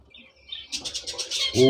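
Chicks in a breeding box chirping, a quick run of high repeated peeps rising in loudness, close by, with a louder call at the end.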